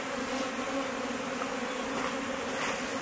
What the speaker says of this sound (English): I'm going to shake the bees out of the super